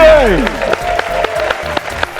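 Applause at a family function celebration, scattered sharp claps over a sustained sliding musical tone and background voices, fairly loud and close.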